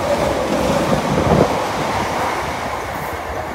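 A Class 318 electric train runs through Cardonald station in Glasgow, making a steady, fairly loud broadband rush and rumble that holds for the whole stretch without a break and with no voices over it.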